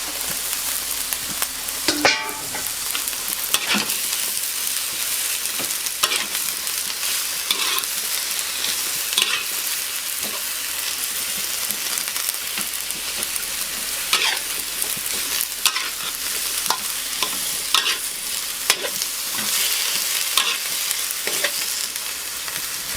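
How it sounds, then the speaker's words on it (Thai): Bok choy is stir-fried in a hot pan for a keto vegetable dish, a constant close sizzle punctuated by repeated scraping and tossing strokes of a spatula at an uneven rhythm. "ผัดให้บกฉ่อยนั้นสลดนิดนึงนะคะ"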